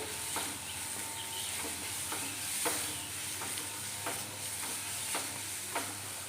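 Chopped onion and small diced tomato sauté in a pan for an okra stew, with a steady soft sizzle and repeated stirring scrapes at a regular rhythm, close and moderately quiet, with no talking.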